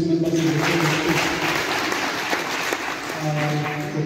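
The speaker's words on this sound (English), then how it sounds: "Can we clap to this member in the same space?" Audience applause for the media at a Kenyan 2022 election results announcement for senate and women representatives, a steady moderate wash of clapping over a humming hall background.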